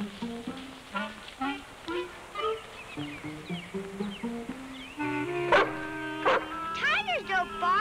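A run of short, yipping barks and whimpers from a dog in a 1978 wilderness film, repeated in quick bursts, mixed with voices talking and growing louder and more excited toward the end.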